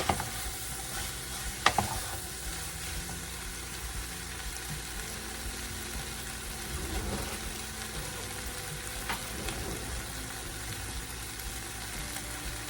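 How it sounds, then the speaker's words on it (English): Potatoes sizzle in a hot pan while being stirred, a continuous frying hiss with a few sharp utensil knocks and scraping sounds near the start and middle, steady and moderately quiet with no voices. "we're going to put our potatoes in here. I'm going to give these a quick little stir."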